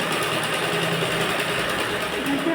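A steady, fast mechanical whir of a sewing machine running continuously close by, double-stitching a round cup-style blouse without pause.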